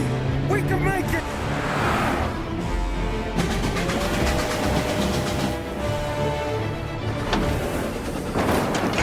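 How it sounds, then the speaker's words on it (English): Train rumbling past during a cutscene in the Mafia video game, a dense continuous roar of wheels and engine mixed with excited shouting voices and game music. "He's trying to beat the train!"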